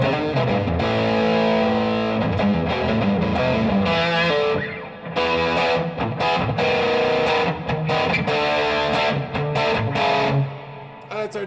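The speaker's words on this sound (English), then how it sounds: "Switch it to plate reverb for because like plate and fuzz usually go together" Fuzzy, distorted electric guitar through a fuzz pedal and plate reverb plays continuously with a washy, lingering reverb, chords ringing out loud and sustained throughout.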